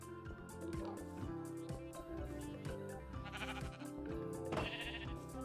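Repeated synthetic-sounding Minecraft sheep bleats over a bright, busy musical background, a few calls rising clearly above the steady backing.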